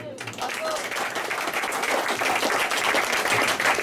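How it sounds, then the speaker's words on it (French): Audience at a puppet and singing workshop performance applauds the performers, a dense continuous clapping with voices mixed in beneath it, steady and fairly loud throughout. "On peut encore les applaudir."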